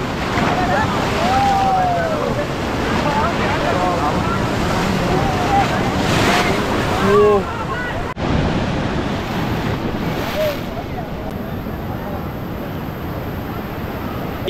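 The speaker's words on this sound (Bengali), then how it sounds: "ঢেউ দেখলে তো এইখানে পুরো একদম প্যান্ট গেঞ্জি সব ভিজিয়ে দিয়েছে" Sea waves surging and breaking at the Digha estuary where fishing trawlers come in, a steady loud wash of surf under gusting wind noise, with a voice talking over it and a brief thump partway through.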